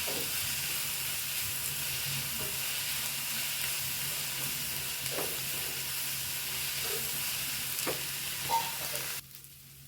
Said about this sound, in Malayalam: ഉള്ളി വാടി വരുന്നുണ്ട്.